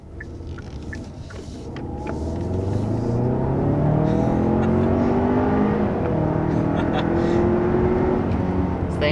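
2021 Kia Sorento SUV accelerating hard, engine note climbing in pitch and dropping back as the transmission shifts quickly through several gears, the rising tones repeating under a loud, steady rumble.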